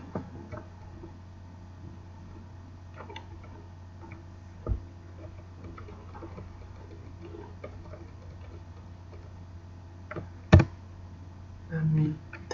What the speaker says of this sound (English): let me type it manually